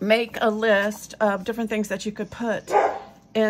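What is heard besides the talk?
dogs barking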